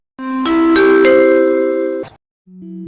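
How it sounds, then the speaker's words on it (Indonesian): A school bell rings to mark the end of lessons: a loud electronic chime of layered tones rising in steps, holding for about two seconds, then a short lower tone after a brief gap. "Bel tanda berakhirnya pelajaran pun berbunyi, menandakan kegiatan belajar sudah usai"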